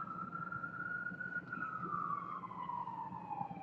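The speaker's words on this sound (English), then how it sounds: "Got the sirens in the background." A police siren wails in the background near a city intersection, its steady tone gliding slowly downward as it carries over distant traffic rumble, moderately faint and continuous throughout.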